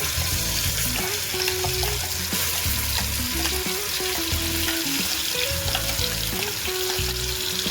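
Green chilli masala fries in hot oil with bay leaf in a pan for a green chicken dish, giving a loud, dense, continuous sizzle up close, with stirring scrapes and clinks recurring throughout and no talking.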